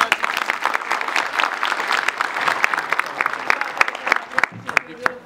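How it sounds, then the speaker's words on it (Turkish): A full hall in Samandağ's Yeni Çarşı applauds at the end of a theatre play, the Şeyh Bedrettin epic; sustained, lively crowd clapping with sharp individual claps, thinning toward the close. "Yeni Çarşı Salonu'nu dolduran Samandağlılar oyunun sonunda alkış tutarak beğenilerini ifade ettiler."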